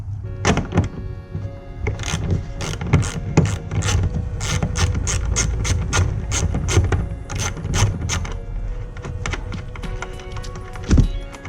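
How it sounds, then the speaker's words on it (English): Socket ratchet undoing a bolt on a truck liner, a loud close run of rapid clicking strokes in uneven bursts, with metallic clunks between. "let me undo this to get this liner out of the way"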